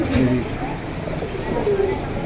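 Pigeons at a pigeon seller's coo in low, rounded tones near the start and again later, while people talk over them throughout.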